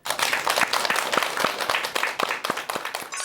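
Applause from a lecture audience welcoming a family-medicine professor, with sharp claps breaking out over a steady broadband patter, close and fairly loud for about three seconds before tapering slightly.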